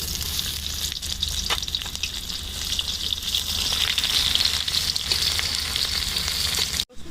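Chopped onion fries in mustard oil with bay leaf and panch phoron spices for a potol chingri dish, a loud, dense and continuous sizzle with a few stirring knocks, cutting off abruptly at the end.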